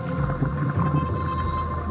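A large whale vocalizes underwater in deep open ocean, drawn-out low moans and tonal calls sustained throughout over a murky watery background, with no talk.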